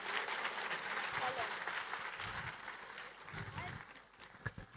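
An audience at a school's annual cultural festival claps steadily, a dense wash of applause that holds for several seconds and then thins slightly near the end.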